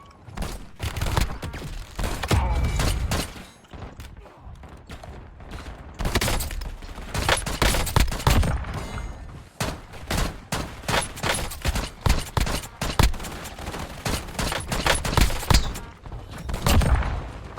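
Rapid close-range shotgun blasts in Black Ops 6 Zombies, set in Haven's Hollow, come as loud, dense bursts of booming shots with brief gaps, packed almost continuously together.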